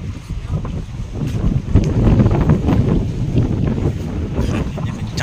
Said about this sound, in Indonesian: Anginnya kencang.